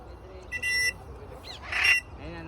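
An African grey parrot in free flight outdoors gives two brief squawking calls, a short harsh burst followed by a louder one about a second later, over faint background noise.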